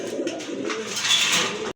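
A domestic pigeon kept for sale coos once, close and clear, a short throaty call lasting under two seconds.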